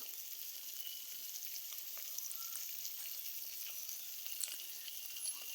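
Steady, dense sizzle of Japanese punti fish shallow-frying in hot oil in a pan, a continuous crackling hiss with faint pops and no voices.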